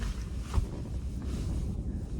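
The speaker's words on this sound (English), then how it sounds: "it is windy and miserable out" Steady, blustery wind on a beach buffets the microphone with a constant low rumble and gusty roar, no voices, loud and continuous throughout.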